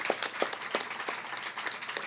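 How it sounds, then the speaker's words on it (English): Audience applause for police officers at a Detroit community event on homelessness, a steady patter of clapping from a modest crowd with a few sharper claps standing out, fairly distant and even throughout. "Let's give our police officers another round of applause for all of their hard work."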